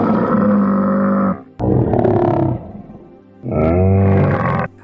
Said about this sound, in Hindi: दोस्तों, ये आवाज एक ऊंट की है,